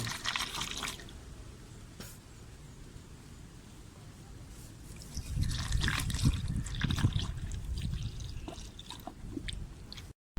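Coolant trickles and drips while the cooling system of a Mitsubishi Lancer is bled, faint at first, then a fuller, gurgling flow swells near the end.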